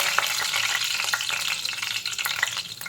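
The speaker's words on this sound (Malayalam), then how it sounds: "കറിവേപ്പില ഇടാം." Curry leaves drop into hot oil where mustard seeds have already popped, setting off a loud, steady crackling sizzle with sharp little spits and pops throughout, heard alone without any voices.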